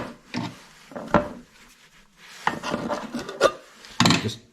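Stirring John Deere machinery primer paint in a can with a genuine John Deere stirring stick: scraping, rasping strokes come in several separate bursts with short pauses between, close and moderately loud, with no talking.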